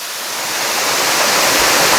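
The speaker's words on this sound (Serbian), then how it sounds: "što smo bliže vodopadu, šum vode dobija na jačini i dubini glasa" A mountain waterfall near Bovec roars as a dense, steady wash of falling water, loud and close, swelling slightly as it nears, with no voices.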